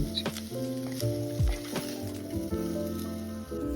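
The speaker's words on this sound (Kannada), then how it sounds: "ಇದ್ರೊಳಗ ಇವ್ನ ಪನ್ನೀರ್ ಒಂದ್ ಸ್ವಲ್ಪ ಹುರಿದು ತಕೊಂಡ್ಬಿಡೋಣ" Paneer frying in hot oil in a pan gives a soft, steady sizzle and patter under sustained tonal background music, with a few small clatters mixed in.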